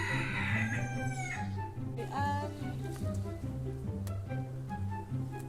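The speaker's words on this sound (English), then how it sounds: "these cockerels just be chilling in here and screaming" Several cockerels crow loudly one after another, close by, at St. Mary's church in Tivetshall, their drawn-out calls overlapping with clucking and low farmyard noise.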